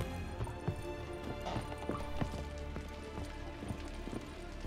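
Horse hooves clip-clop at an uneven walking pace in The Witcher 3, with soft repeated hoof strikes over a steady ambient bed and a brief spoken word.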